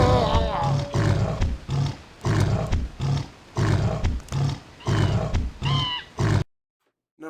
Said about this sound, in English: A neat but overshadowed sound, the saber's call comes in at number 7.